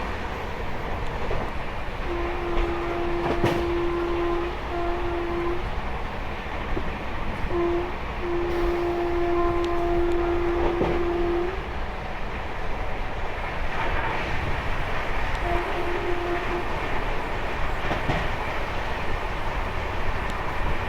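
Akal Takht Express running at about 130 km/h between Kolkata and Asansol, a steady loud rumble of wheels on rail with intermittent tonal horn-like hoots sounding over the continuous roar.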